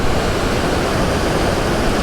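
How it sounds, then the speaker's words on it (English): Water rushes through the emergency spillway of Secord Dam in Michigan, a loud, steady, close-up roar of turbulent flow that runs unbroken with no voices. "Yeah, that water is flowing pretty good right now."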